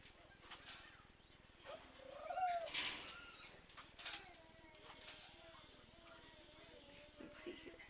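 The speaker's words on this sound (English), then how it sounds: "She's making funny cooing noises." A female lovebird about to lay an egg gives soft, quiet coos and chirps, with one fuller burst early on and thin squeaky calls after, over faint background hiss.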